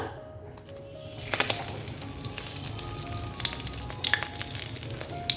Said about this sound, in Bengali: এবার এই তেলের মধ্যে আমি ফোড়ন হিসেবে যা যা দেবার সেগুলো দিয়ে দেবো